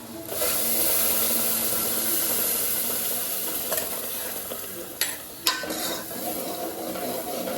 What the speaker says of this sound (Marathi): आता आपण जे वाटण केलं आहे ते घालूया